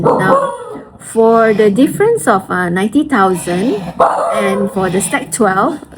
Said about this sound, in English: sorry about my dog, he is just agitated at the moment